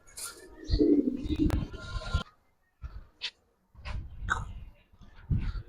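Giribaz pigeons on a rooftop give low, throaty coos in short bursts with brief pauses between them. They sound close, and some faint breathy noise sits around them.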